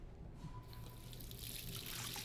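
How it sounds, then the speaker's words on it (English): Water running from a sink tap and splashing onto a face in a bathroom in the video game Life is Strange, a soft continuous trickle and splash that grows fuller toward the end, heard alone. "Just splash some water in your face."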